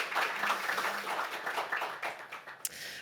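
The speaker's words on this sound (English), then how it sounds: "let's give our panelists a round of applause for their expertise and honesty" A conference audience applauds the panelists, a steady wash of many hands clapping at moderate distance that lasts the full stretch and thins slightly toward the end.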